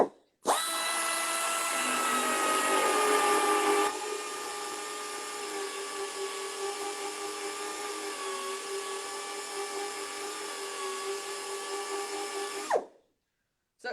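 A Dynabrade small belt sander grinds down a weld, running as a loud, continuous high-pitched whine for about twelve seconds, heavier at first under load, then steadier until it cuts off, with no talking.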